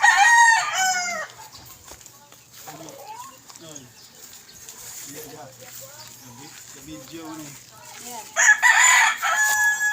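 Chickens cluck and a rooster crows loudly near the start and again at the end while being fed, with softer clucking in between and a person talking.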